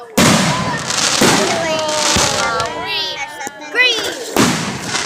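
Fireworks bursting outdoors: a series of loud booms and crackles, some with rising whistling tails, spread across the clip while people chatter in the background.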